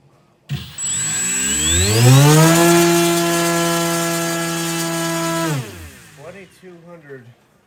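A small RC brushless motor with a two-bladed folding propeller on a thrust test stand spins up with a rising whine, holds a loud steady tonal drone for several seconds, then cuts off abruptly; a voice speaks briefly afterward.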